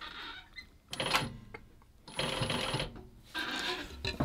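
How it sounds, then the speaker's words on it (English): A sewing machine stitches leather clog uppers in three short bursts of rapid mechanical chatter separated by brief pauses, fairly quiet and close. "I'm going to carry on just sewing around this line"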